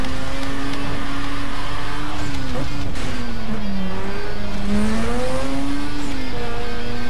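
A car in Need for Speed Most Wanted drones steadily with a loud engine tone rising and falling, tires squealing through continuous racing noise.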